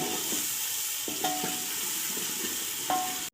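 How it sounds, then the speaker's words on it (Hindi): Potato pieces frying in a pan for aloo gobi make a continuous close sizzle, with a few light spatula scrapes and clinks near the start and end. No one speaks. "आलू को 4-5 मिनट फ्राई करते हैं"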